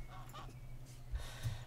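A goose in the zoo game Let's Build a Zoo gives a few faint, low honks that sit under a steady electronic hum.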